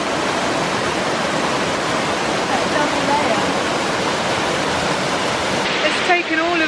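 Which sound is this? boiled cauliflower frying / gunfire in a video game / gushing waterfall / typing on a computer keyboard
gushing waterfall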